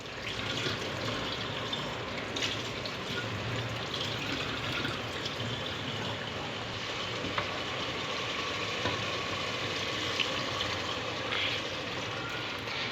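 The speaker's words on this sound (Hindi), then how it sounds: "ये देखिए इस तरह से आप लोगों ने इसमें पानी डाल देना है" Water poured into a pot of beef dal gosht, a continuous close splashing pour over a low background hum, steady for several seconds without talk.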